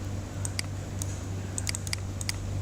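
Computer keys being pressed one at a time during spreadsheet work, a sparse run of crisp, close clicks over a steady low electrical hum.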